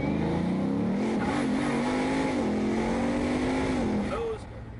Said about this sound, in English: It makes the most amazing sounds. There's whirring. There's growling.